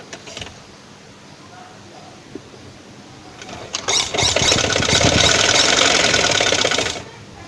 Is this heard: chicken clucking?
no